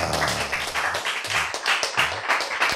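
Church congregation clapping during a sermon, with a steady, dense patter of hands throughout and a faint voice underneath.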